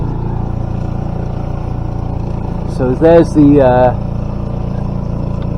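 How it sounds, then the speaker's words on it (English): A sailboat's engine drones steadily while motoring out of Palma marina, a constant low rumble running the whole time beneath a brief spoken phrase near the middle. "yeah, still got the engine on."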